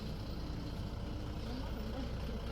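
A truck carrying laminate flooring arrives at a rural South African farm building site, its engine a low, continuous rumble that stays faint and distant throughout the short stretch.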